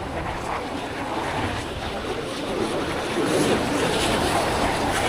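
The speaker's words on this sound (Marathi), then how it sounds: "लाट पण जास्ती आहे, वारा पण जास्ती आहे." Wind roars into the microphone while sea waves wash and churn constantly during lure fishing, a loud, unbroken rush that swells slightly toward the end.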